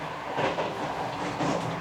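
A high-speed train running in Laos between Luang Prabang and Vang Vieng, heard from on board as a steady broadband rolling rumble with faint rhythmic clatter, no voices.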